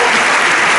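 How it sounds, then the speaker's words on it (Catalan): A concert audience applauds, a short, loud, dense wash of clapping from a crowd with no pauses. "Un aplaudiment, va, vinga."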